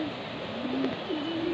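Low, soft cooing of a racing pigeon arriving from a derby race rolls on and off over a steady background hiss, near and unhurried.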